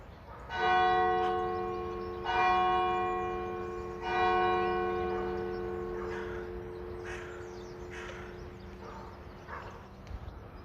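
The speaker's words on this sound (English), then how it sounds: "The bells went and then the crow gave exactly the same" A church bell rings three times at even intervals, each stroke ringing out and slowly decaying, followed by several harsh calls from a nearby crow.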